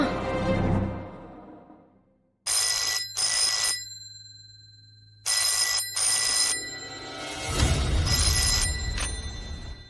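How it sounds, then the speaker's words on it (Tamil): A household telephone bell rings in two long bursts separated by a pause, loud and close, between stretches of background music. "இந்த நம்பரை கண்டுபிடிச்சு ஃபோன் பண்ணிட்டானே"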